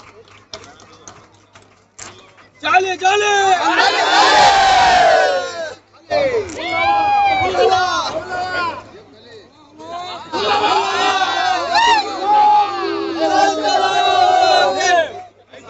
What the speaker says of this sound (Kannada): ಎಲ್ಲರೂ ಚಪ್ಪಾಳೆಯೊಂದಿಗೆ ಅಭಿನಂದಿಸೋಣ